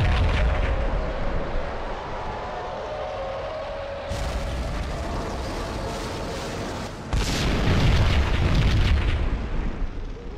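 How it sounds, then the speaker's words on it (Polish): A bomb goes off in a nearby building in the Max Payne video game, a sustained roaring blast with rumbling debris that swells again in a second heavy surge, loud and close with no talking. "W pobliskim budynku wybuchła kolejna bomba."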